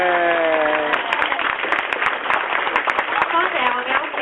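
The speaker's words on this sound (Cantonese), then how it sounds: "掌聲而家" Wedding dinner guests in a banquet hall break into sustained applause, a dense, loud wash of many hands clapping close by, with a voice heard briefly at the start.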